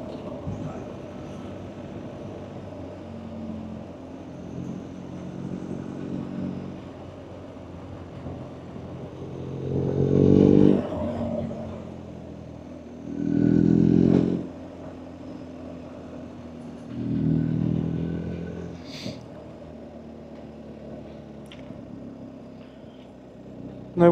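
A car engine revving hard in the wrong gear while driving, with three loud droning surges of engine roar rising and falling over steady road noise inside the vehicle.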